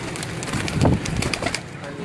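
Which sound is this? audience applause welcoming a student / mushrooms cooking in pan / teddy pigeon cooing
teddy pigeon cooing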